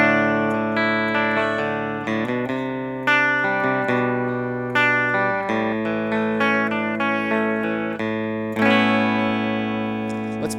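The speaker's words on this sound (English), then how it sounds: "So this is the guitar clean, nothing on it at all" A Fender Thinline Telecaster Deluxe semi-hollow electric guitar plays a clean, totally dry passage of picked notes and chords, each attack distinct and decaying naturally, steady in level with no talk over it.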